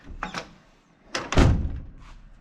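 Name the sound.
1989 Kenworth Aerodyne truck door slammed but not closing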